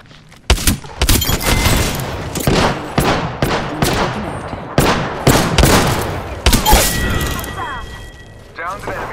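Rapid bursts of gunfire from the battle royale video game Apex Legends, loud and close, firing in repeated volleys with sharp cracks and booms across the whole stretch, a few metallic reload clicks near the end.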